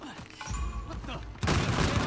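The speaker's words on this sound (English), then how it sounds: "Surely they would have heard the gunfire." Rapid bursts of gunfire crackle and boom close up in Uncharted: The Lost Legacy, with a dense volley erupting near the end.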